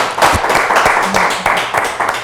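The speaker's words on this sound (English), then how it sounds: "One more time, hand clap for them." A small studio audience claps for guests on a talk show, a short burst of close, uneven hand claps with a few distinct sharp slaps standing out.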